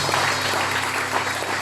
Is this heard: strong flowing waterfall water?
no